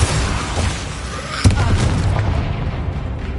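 Confringo blasting spell going off in Hogwarts Legacy, a loud, dense rumbling burst with a sharp crack partway through, sustained roar throughout, no clear talking over it.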